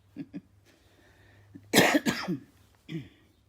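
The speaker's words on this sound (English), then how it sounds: "Sorry about coughing" A loud, close cough bursts out in a short cluster, with a few quieter throat sounds before and after.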